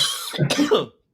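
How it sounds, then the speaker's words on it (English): A single person coughs, a short harsh burst that breaks into a couple of rough pulses, close and clear, then cuts off into silence. "Take care of that cough"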